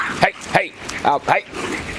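French bulldog barking while playing: four short, sharp yappy barks in quick succession, close and loud, with a person talking around them.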